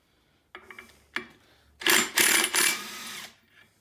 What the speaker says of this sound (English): I'm going to use an impact to remove the clutch bolt, and this is a 21 millimeter bolt